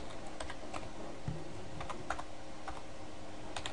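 Typing on a computer keyboard while writing an email, a steady run of soft, close key clicks with a few sharper taps, heard alone without voices.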